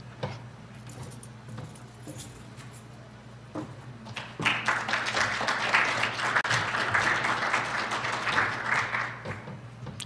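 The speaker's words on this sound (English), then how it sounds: "I don't think I've ever gotten up here and had somebody clap." An audience at the Flourish 2011 conference applauds a presenter, starting as scattered claps and swelling into a steady, moderately loud round of clapping that holds for several seconds before easing off.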